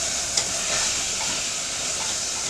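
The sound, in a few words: stirring rendang curry sizzling in pan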